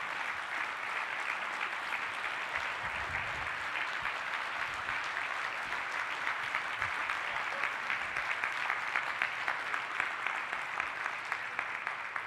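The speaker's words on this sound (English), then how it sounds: "I'd like to ask for you guys to give a round of applause for Friso and Craig" Sustained applause from a large audience at a global business summit, steady dense clapping filling the hall for about twelve seconds, with scattered louder claps toward the end and no talk on top.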